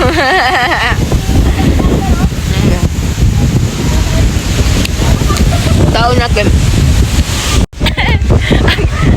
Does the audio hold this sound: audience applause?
no